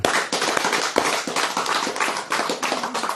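An audience claps hands in unison at a religious lecture, a brisk, dense burst of sharp claps with a few louder slaps standing out, steady for a few seconds with no talk over it.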